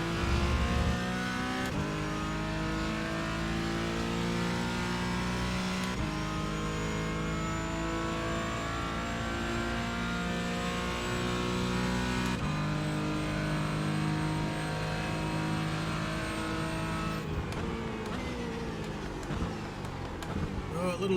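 Porsche 718 Cayman GT4 engine in the iRacing simulator, a loud, continuous engine note that rises steadily through the gears with brief dips at each upshift, sustained throughout with no talk over it.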